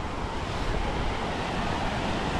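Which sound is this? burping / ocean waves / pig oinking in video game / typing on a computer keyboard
ocean waves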